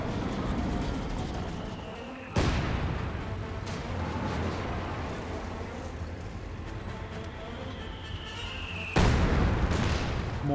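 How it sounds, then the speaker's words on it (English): Mortar strikes in a 4v4 Company of Heroes 2 battle land as two sharp, loud blasts about six seconds apart, over constant rumbling gunfire and explosions, with faint talk underneath. "Mortar does strike there."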